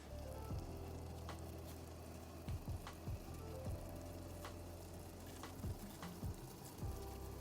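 Crab paste for Vietnamese bun rieu soup is added to a boiling pot, giving a steady low bubbling hiss with repeated soft plops and drips scattered through it, fairly quiet and with no voices.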